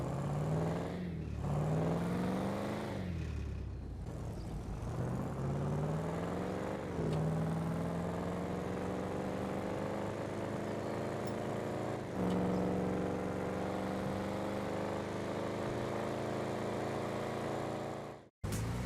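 A loud, grunty V8 cruiser car in GTA Online revs up repeatedly, its engine note climbing and dropping in several surges before cutting off abruptly at the end.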